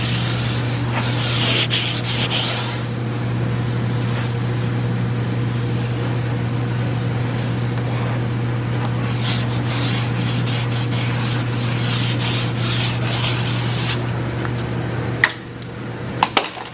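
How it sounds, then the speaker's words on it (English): Metal is filed along the edges of a 1937 Chrysler running board, a steady rasping scrape with repeated rhythmic strokes over a constant low electrical hum, ending with a couple of sharp clanks. "What he's working on is the running board for the 37 Chrysler, filing out the edges"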